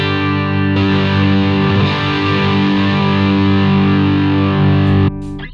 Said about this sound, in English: There's this beautiful interaction between your guitar signal and the valves that just make that really rippling, creamy distortion